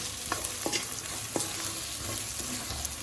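Turmeric powder, red chilli powder and spices being stirred in a hot pan, a continuous close sizzle with a few light scrapes of a spoon.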